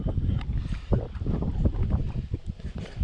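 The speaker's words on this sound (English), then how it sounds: "The wind is about to blow me into the rocks." Wind buffets the microphone while fishing for smallmouth from a small boat in Jackman, Maine, a loud rumbling gusty roar with light water sloshing and no clear talking.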